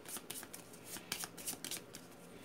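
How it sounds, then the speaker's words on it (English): A deck of cards for the board game Final Girl is shuffled by hand, a quick run of crisp riffling and flicking bursts close by, quiet and without talk. "shuffle the terror deck"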